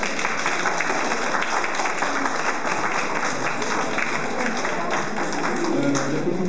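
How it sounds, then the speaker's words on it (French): A crowd at a Vietnamese association event applauds in a dense, steady patter of many hands, moderately close, with faint voices underneath. "Je vous demande d'applaudir, mesdames."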